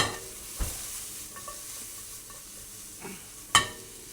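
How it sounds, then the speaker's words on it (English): Onions fry in a pan with a low, steady sizzle, broken by a few sharp utensil knocks and scrapes as they are stirred, including one louder clack near the end. "Turn the heat right down on that. You don't want to burn your onions."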